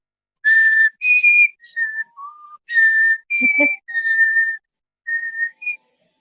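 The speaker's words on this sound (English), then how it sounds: "I'm gonna whistle the theme song to Jeopardy" A person whistles the Jeopardy theme song alone, clear, close tones in short phrases separated by brief pauses, with no voices over them.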